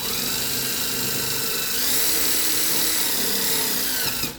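A power drill with a 1/8 inch bit whirs steadily and close, a continuous high-pitched drilling drone that rises slightly midway, then stops abruptly at the end.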